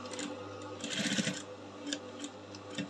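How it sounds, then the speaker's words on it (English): A sewing machine run slowly through thick lace while stitching a kaftan gown, giving a soft, muffled mechanical whirr that rises in a brief burst mid-way over a steady low motor hum, with no talk. "I'm sewing slowly because the lace I'm working with is actually thick"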